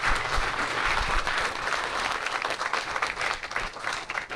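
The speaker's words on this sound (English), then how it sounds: "if we can get a round of applause for our speakers for being so forward" A live audience at a local growth event gives a round of applause for the speakers, steady clapping throughout that thins out toward the end.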